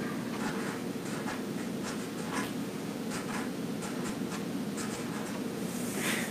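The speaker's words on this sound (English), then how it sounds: "I'm going to write down 4 inch for overlap." A pen scratches out handwritten measurement notes for pleating a drapery, a series of short, close, dry scribbling strokes over quiet room tone.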